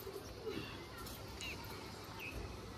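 Malwai pigeons coo softly and intermittently, faint and somewhat distant beneath a steady hum of background noise, with a few brief chirps scattered through.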